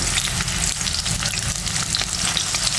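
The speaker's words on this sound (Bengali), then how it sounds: "এখন আমি কেটে রাখা আলুটা সুন্দর করে বাদামি কালার করে ভেজে নেবো" Cut potatoes fry to brown in hot oil with salt, a dense, continuous sizzle and crackle, loud and close, no voices.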